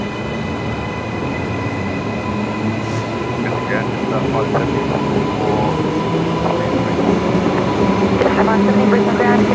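Brisbane Airport AirTrain departing, a steady loud rumble of the rail vehicle with rising whine and clatter building over several seconds, with a voice talking over it.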